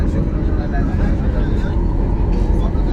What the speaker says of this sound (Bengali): বিমান যাচ্ছে, সামনের দিকে যাচ্ছে, বিমান সামনের দিকে যাচ্ছে